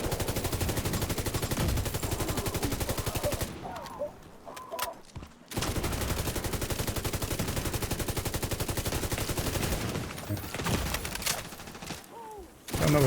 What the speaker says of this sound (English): I don't know what's shooting you from the other side